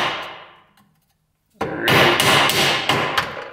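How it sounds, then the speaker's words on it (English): Sharp metallic hammer blows strike a stuck screw on an old snowmobile left sitting for thirty years, a quick series of five or six loud, close hits after a brief quiet pause, with no talking. "Might try to hammer them free here."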